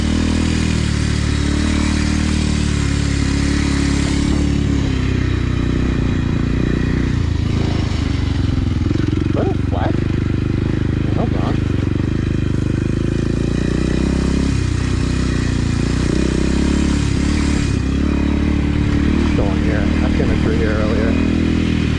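A Kawasaki KLX 230 dirt bike engine runs steadily and loudly throughout, droning with some clatter and rough scraping layered over it, while a voice talks across much of the stretch.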